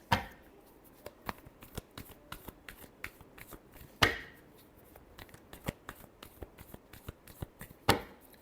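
A deck of tarot cards being shuffled by hand: soft rapid riffles and taps with several sharper slaps as the deck is squared, close and quiet, with no one speaking.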